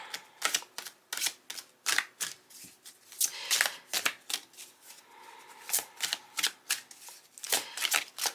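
Tarot cards are shuffled and dealt out, a run of crisp, close riffling flicks and snappy slaps repeating in quick irregular bursts, with no voice over them.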